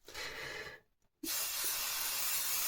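Two bursts of spray-can glue hiss: a short blast, a brief pause, then a longer steady spray that continues to the end, close and loud.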